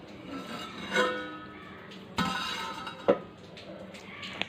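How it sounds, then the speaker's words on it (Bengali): A metal pot lid lifted off by hand after a chicken kosha has rested, giving a few light clinks and clatters at about one, two and three seconds over a quiet kitchen background. "তাই আমি এটা হাত দিয়েই ঢাকাটা সরিয়ে নিচ্ছি"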